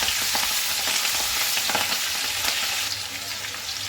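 Slit green chillies sizzle loudly in hot oil with jackfruit and prawns, a dense, steady frying hiss with faint stirring scrapes, easing slightly toward the end.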